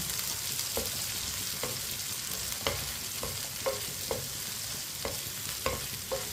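Cut okra frying in a pan as a spoon keeps it moving: continuous sizzle broken by regular scraping taps of the spoon against the pan, roughly one each half-second.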